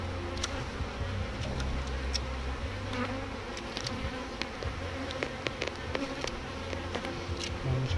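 Honey bees drone in a dense, continuous buzz around an open hive during a beekeeping inspection, with faint clicks and taps of frames underneath and no speech.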